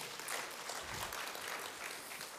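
Quiet, distant applause from the seated audience at an audit committee conference, a soft even patter of many hands lasting a couple of seconds with no talking.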